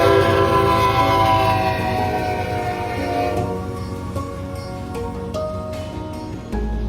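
A freight train led by a pair of CSX locomotives passes close by, its horn sounding sustained blasts over the rolling rumble and wheel clatter before the horn cuts off and the rumble fades.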